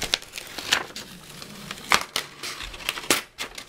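Non-permanent tape is peeled off a handmade card, giving a few close crinkling, tearing rasps with short bursts of crackle between quieter moments.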